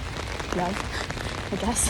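Rain falling outside during a sad, dramatic moment, a steady soft patter running under a person speaking quietly throughout.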